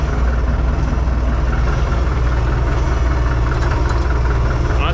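A cold lawn mower engine idles while warming up, a steady, close, loud droning hum that runs unbroken throughout.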